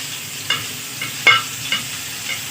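Seekh kababs fry in a pan over a low flame with a soft, steady sizzle, broken by a few quick scraping stirs, heard close and fairly quiet with no voices.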